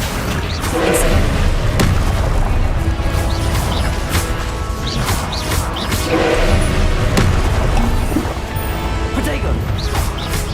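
Repeated Confringo explosive spell blasts in the Hogwarts Legacy video game, a dense run of booming crashes and thuds over constant game noise, several loud impacts spread through the fight.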